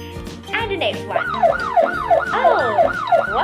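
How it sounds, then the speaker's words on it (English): A police car siren wails in a rapid, repeating up-and-down sweep, loud and close, with several overlapping siren tones layered together and no talking. "Yep, this is a police car."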